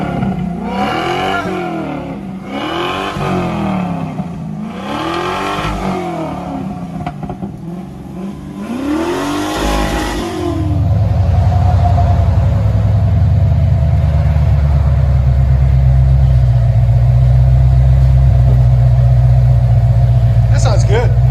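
Chevy Corvette 5.7L V8 with a Corsa cat-back exhaust revving loudly nearby, several rising and falling throttle blips, then a steady deep rumbling hold. People talk over the engine.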